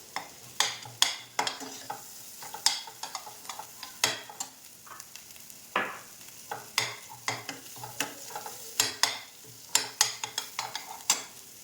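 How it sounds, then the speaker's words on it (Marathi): Ground masala paste for village-style chicken sukka roasting in a pan over a low flame: a steady run of spatula scrapes and stirs against the pan over a soft sizzle, close and moderately loud, with no talking. "आपण सगळं वाटण टाकून देऊ. मंद आचेवर याला भाजायचं आहे."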